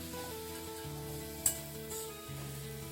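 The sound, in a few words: onions and roasted chickpeas frying in a pan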